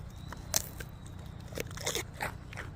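A goat bites into and chews a stick of celery during a food taste test on a farm, giving several close, crisp crunches and bites with wet crackling between them.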